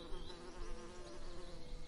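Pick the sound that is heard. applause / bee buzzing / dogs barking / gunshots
bee buzzing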